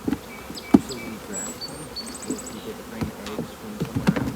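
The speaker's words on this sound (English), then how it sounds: "So we have bees that are up here that are taking care of this cap brood." Honey bees at hive frames of capped brood on a bee farm make a steady, close buzzing hum, with occasional sharper clicks and knocks mixed in.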